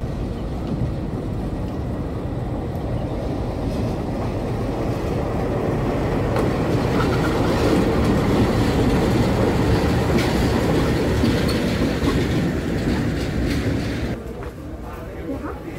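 A train rolling through Bandung station on the Indonesian railway, a steady broadband rumble that swells midway and eases near the end, with faint talk in the background.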